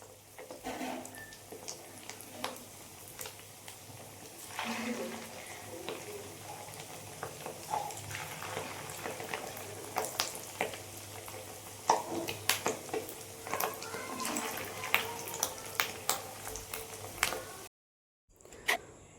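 Fish roe frying in hot oil in a wok, a steady soft sizzle with scattered pops and crackles and occasional clinks of a utensil, close by, ending in a brief silence.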